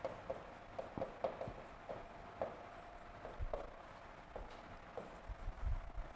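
Handwriting with a pen, faint scratchy strokes and soft taps in an irregular rhythm, close by and quiet with a low background hum, no talking.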